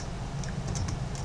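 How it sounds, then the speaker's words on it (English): Computer keyboard typing a command at a Windows command prompt, a quick patter of key presses heard close up for just over a second, with no voices. "So all you have to do is type in taskkill /im for image and type in"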